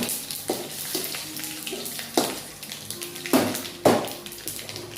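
Red chilies crackle and sizzle in hot oil as a curry is cooked, with sharp pops and spits breaking over a steady frying hiss, close and moderately loud.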